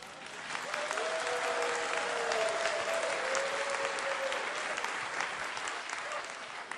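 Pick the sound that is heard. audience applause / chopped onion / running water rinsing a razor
audience applause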